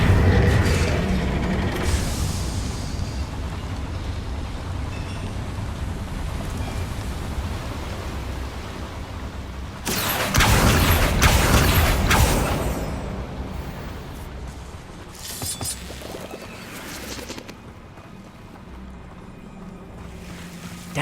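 Spell explosions in the game Hogwarts Legacy, Bombarda and Confringo, bursting over a steady ambient wash, with one loud, roaring blast in the middle and lighter bursts trailing after, with no talking.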